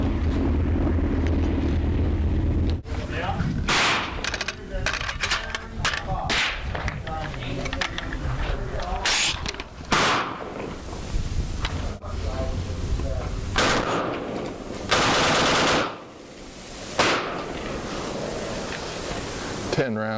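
Adams Arms short-barreled rifle fired outdoors for its first shots, loud sharp reports in rapid strings and bursts filling the clip, with a brief pause near the middle.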